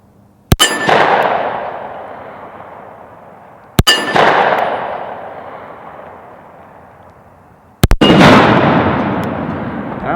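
Three sharp gunshots from a Kimber KDS9C DS 9mm pistol, each one striking an exploding Firebird target downrange and setting off a loud bang with a long, rumbling decay. The shots come at evenly spaced intervals.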